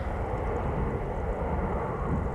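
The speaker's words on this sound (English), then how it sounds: "think I'm hearing airplanes pass overhead" A jet airliner departing Amsterdam Schiphol Airport gives a steady, broad engine roar, loud and continuous throughout with no talk.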